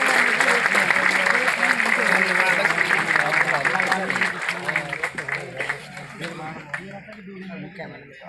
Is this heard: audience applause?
yes